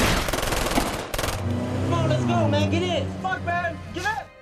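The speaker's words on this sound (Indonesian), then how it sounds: "tiba-tiba kelompok spider memberondong senjata ke rumah Tau dan Kowal." Rapid machine gun bursts from an action film rattle loudly for just over a second, then a speaking voice narrates over lingering background sound.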